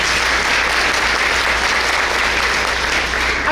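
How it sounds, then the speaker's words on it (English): A breakfast-event audience gives a guest a round of applause: loud, even, sustained clapping from many hands, filling the room without pause. "let's give her a round of applause"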